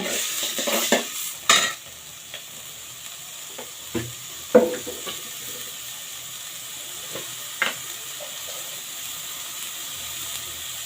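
Oil sizzling steadily in a pan as an ingredient is lightly fried for a cauliflower and rohu fish curry, with a few sharp clinks and scrapes of a utensil near the start and around the middle.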